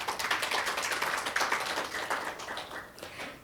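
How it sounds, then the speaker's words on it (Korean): An audience at a forum applauds a keynote speaker with steady, moderately quiet clapping that carries on throughout and thins slightly toward the end. "닥터초우께 다시 한번 감사의 박수를 보내주시기 바랍니다"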